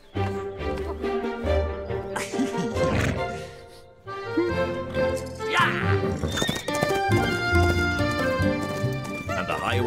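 Galloping horse hooves clip-clop steadily under loud music in a cartoon about a highway rat riding along a highway, with a horse whinnying and a narrating voice over the scene.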